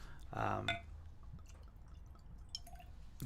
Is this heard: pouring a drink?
yes